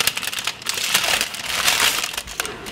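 Sheets of paper are folded up at the corners and pressed down into a pot, a close, loud, continuous crinkling and crushing with sharper crackles throughout and no voices.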